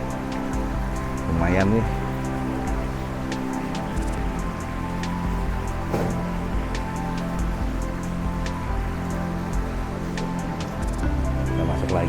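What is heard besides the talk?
flowing water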